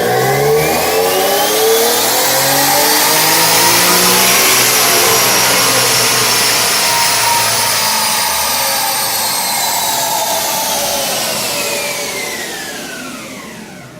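A tuned twin-turbo Infiniti G37 engine revs hard on a dyno, climbing steadily to a loud, sustained high-rpm roar that holds for over ten seconds before easing off near the end, with no talk over it.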